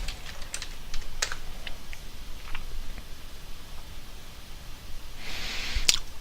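Password typed on a computer keyboard while installing Ubuntu in VirtualBox: a close, irregular run of light key taps, ending in a sharper keystroke and a brief hiss.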